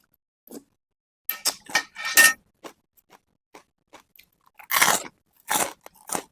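Crispy charcoal-fried pork is chewed close to the mic, giving loud bursts of crunching bites separated by short quiet pauses, with no speech.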